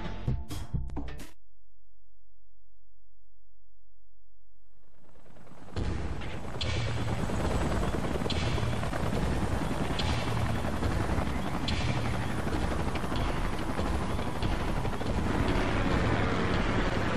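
Salvage choppers in the Xenoblade Chronicles X video game: after a brief burst and several seconds of near silence, a loud rotor roar swells in and keeps thudding and rushing to the end, with wind-like noise.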